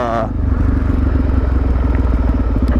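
A Suzuki DRZ400SM motorcycle thumps along slowly on a fresh tire, its single-cylinder engine a close, loud, even putter with a rhythmic pulse, after a brief word from the rider at the start.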